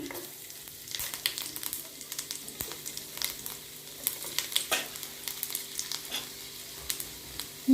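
Cumin and chopped garlic sizzling in hot oil for vegetable noodles, a soft, fairly quiet crackle with irregular sharp pops and light stirring, close up, with no voices.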